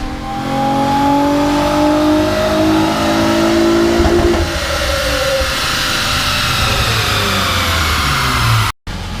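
A naturally aspirated J30A4 V6 car engine revs hard on a dyno under sustained load with a rising, strained roar that drops off midway and winds down before a brief cutoff.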